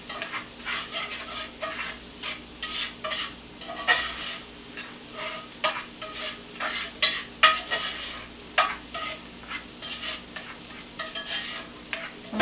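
Shrimp sautéing in a hot pan for shrimp scampi, with a steady close sizzle broken by repeated scraping and stirring strokes of a utensil throughout, no talking.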